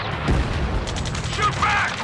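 Gunfire during a battle in the Ace Combat 7 flight game, a muffled burst of shots and booms under shouted radio voices and combat noise.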